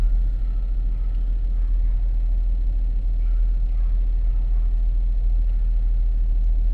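A 2013 Ford Edge with transmission problems runs while being shifted between gears, a steady low engine rumble that stays close and even throughout, with no talk.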